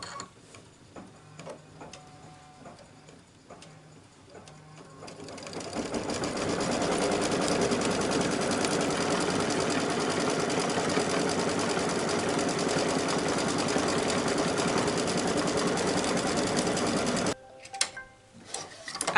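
An embroidery machine stitches a design detail onto a T-shirt held in a hoop, running as a steady, loud, rapid mechanical whir with a ticking rhythm for most of the clip, then stopping abruptly near the end.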